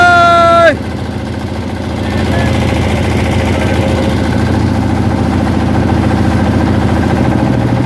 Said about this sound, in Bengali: ধীরে ধীরে আমাদের নৌকাটা চলছে ঝর্ণার দিকে।